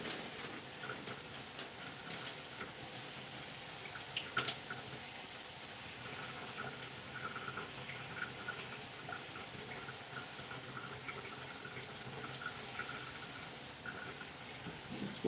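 Tap water runs steadily and quietly during hair washing on a home wash day, a soft continuous splashing hiss with faint ticks, no talking.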